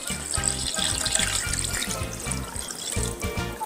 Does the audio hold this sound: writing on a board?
no